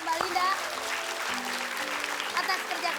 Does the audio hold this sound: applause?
yes